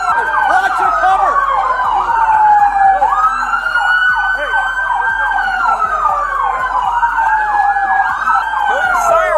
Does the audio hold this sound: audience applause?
no